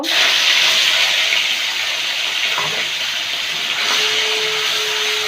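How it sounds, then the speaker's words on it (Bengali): Prawns frying in hot oil in a wok, a steady loud broadband hiss of sizzling that runs unbroken throughout with no talk. "চিংড়ি মাছগুলো ভেজে নেব"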